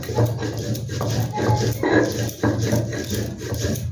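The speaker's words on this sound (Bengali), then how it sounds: "তারপরে রসুন আদা একসাথেই দিয়ে নিলাম এগুলো আমি সব বেটে নেব" Garlic and ginger ground together into a coarse paste for a Bengali fritter recipe, giving a steady gritty rubbing and scraping with repeated strokes, close and fairly loud throughout.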